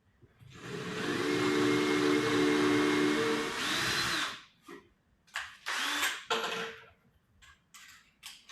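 A power drill runs steadily for about four seconds, driving screws into wooden station molds during boat building, then gives several shorter bursts of whirring, all close and loud with no talking.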